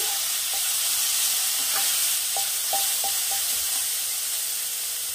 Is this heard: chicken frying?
yes